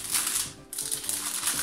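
Crinkly, rustling foil wrap being torn open on a boxed QuickShot Maverick joystick, a steady close crackle with a brief pause partway through.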